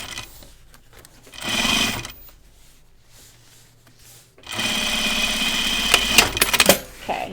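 Sewing machine stitching denim jeans, stitching a seam toward the waistband: a short burst of running stitches, a pause with soft handling, then a longer steady whirring run with clicks and knocks toward the end.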